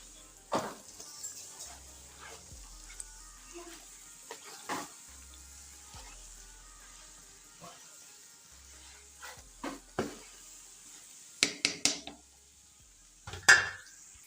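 A spoon scrapes and knocks in a pan as panjeri ingredients are mixed, with soft, irregular scraping strokes and a few sharper clatters spread over quiet pauses.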